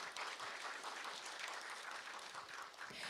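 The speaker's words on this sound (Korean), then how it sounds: "다시 한번 큰 박수 부탁드립니다." Audience applause at a 2022 Korean national language institute AI language ability competition award ceremony, a dense, steady wash of many hands clapping throughout, loud and continuous with no talking.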